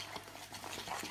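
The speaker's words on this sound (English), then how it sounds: "Mix this up quickly." A spoon stirring a protein dessert mixture in a bowl, a soft, quick scraping and swishing that is faint and close, with no voices.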